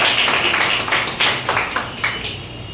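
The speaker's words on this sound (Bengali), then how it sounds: "তো দুজনের জোরে হাততালি একটা" Audience applause at a social worker gathering in Malda district, a short burst of irregular hand claps that starts loud and thins out into a few scattered claps.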